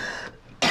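A woman coughs once, loud and close, in a burst at the end after a quieter stretch of room sound.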